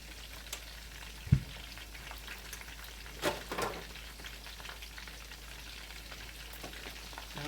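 Chicken cutlets fry quietly in a pan with a faint, steady sizzle, punctuated by a sharp knock and a couple of soft clatters, with no voices.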